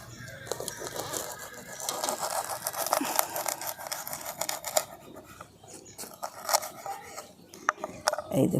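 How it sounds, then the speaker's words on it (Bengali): A knife slices fried bread pieces down the middle, giving faint, quick, crisp scraping and crunching strokes in an otherwise quiet kitchen. "তো এই যে আমি ব্রেডগুলোকে ভেজে রেখেছি, মাঝখান থেকে কেটে নিচ্ছি।"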